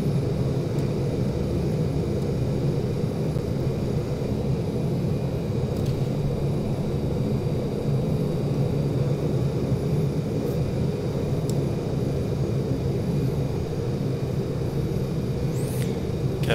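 Twin turboprop engines of a Super King Air B200 in a flight simulator, a continuous loud low rumble holding steady without breaks.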